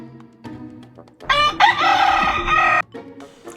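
A rooster named Rico crows once, loud and close, a long drawn-out cock-a-doodle-doo with some clucking and farmyard noise before and after.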